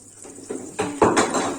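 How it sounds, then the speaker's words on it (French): Kitchen knives are dropped in a home kitchen during cake preparation, giving a quick cluster of close metallic clatters and clinks over under two seconds, with no talk. "J'ai fait tomber quelque chose, mes couteaux."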